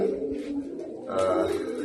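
Pigeons coo softly in a brief, close, low murmuring call, with no voices.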